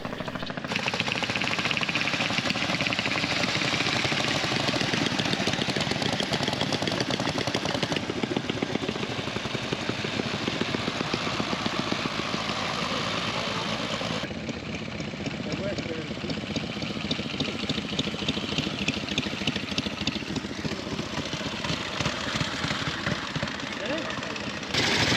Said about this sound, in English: Then we'll get the bikes fired up and off we go.